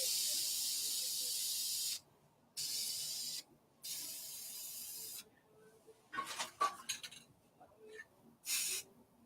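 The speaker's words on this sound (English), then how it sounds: "Double spray here." Several sharp hissing spray bursts from a bottle, separated by short pauses, followed by softer rustling and two more quick sprays.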